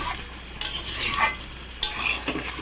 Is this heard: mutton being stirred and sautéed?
yes